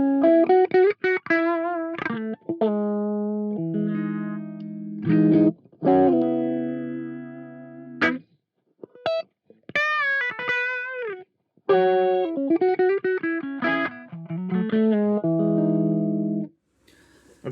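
Electric guitar played through a Boss MD-200 modulation pedal on a vibe effect, warbling and pulsing, chords and single notes ringing out in phrases with short gaps between them.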